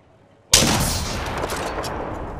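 A gunshot in the battle-royale video game Apex Legends: a single sharp, loud crack after a brief silence, followed by a long rumbling decay.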